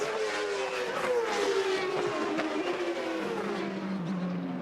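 CART race cars at the 2002 Australia round scream past with a high, sliding engine whine that drops in pitch as it moves away, with a steady crowd-and-track roar underneath.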